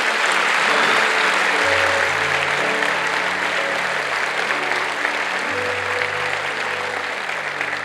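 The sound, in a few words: church congregation applause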